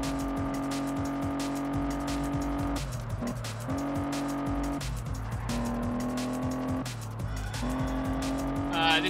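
Car engine roaring steadily with tire squeal in the Test Drive Unlimited racing video game, the pitch dropping at several gear shifts, with a continuous, loud drone throughout.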